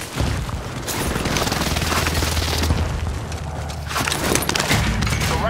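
Airstrike explosions in a Battlefield game, a loud continuous barrage of heavy booms and blasts rolling together, with deep rumbling underneath and fresh impacts near the end.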